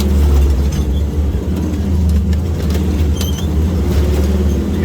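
A wrecker truck driving on a broken leaf spring, heard as a loud, steady low engine and road rumble from close by with faint rattles on top.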